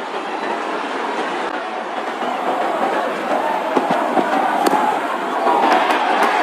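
A large crowd at a T20 World Cup cricket match between Pakistan and Bangladesh in India cheers the openers, a broad, steady roar that holds throughout and swells slightly toward the end.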